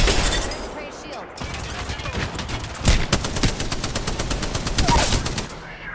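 Gunfire in Apex Legends, sustained rapid automatic shots with crackling impacts and a louder hit partway through, close and continuous alongside game voice lines.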